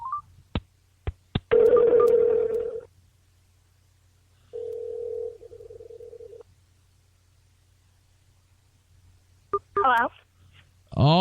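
Telephone keypad tones beep in quick succession, followed by two bursts of ringing and another short tone sequence, then a voice comes on the line near the end.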